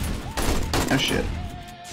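Shotgun turret blasting during a horde night in the video game 7 Days to Die, a few loud booming shots mixed with game noise and a voice talking.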